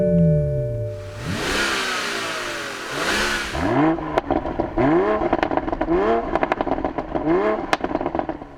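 Toyota Supra with a BMW-sourced 3-litre turbocharged inline six revving hard, a rising wail followed by repeated sharp throttle blips that climb and drop in pitch, loud and close.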